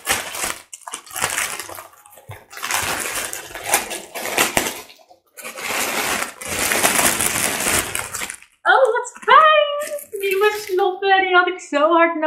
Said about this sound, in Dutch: Tijd om het cadeautje van mijn moeder open te maken.